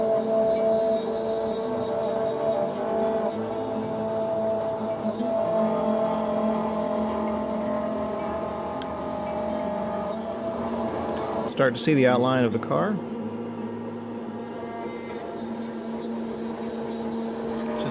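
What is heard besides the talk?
CNC router cutting wooden car parts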